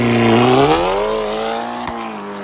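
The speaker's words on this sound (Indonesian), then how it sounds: "Gas, launch control." A Volkswagen Scirocco R launching hard with launch control, engine roaring loud and close, pitch climbing steeply, dipping at a quick gear change, then climbing again.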